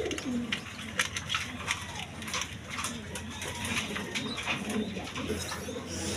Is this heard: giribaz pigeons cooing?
yes